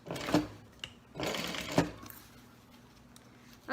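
A sewing machine stitches a seam across a zipper pouch in two short whirring bursts close by, followed by a quieter hum.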